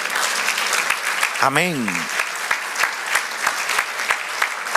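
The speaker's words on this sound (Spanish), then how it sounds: "Dale un aplauso al Señor." A church congregation applauds during a sermon with strong, full clapping and some sharp individual claps standing out, while a voice briefly calls out over it partway through.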